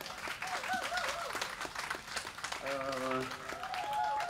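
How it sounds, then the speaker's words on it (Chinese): Audience applause at a live music performance in Tiehua Village, Taiwan: steady clapping from a crowd throughout, with tonal sounds and voices mixed in, fairly loud and continuous. "掌声谢谢"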